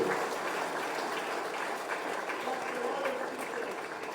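A school audience at a community gathering applauds in a steady, even wash of clapping that holds at a constant level for the whole stretch.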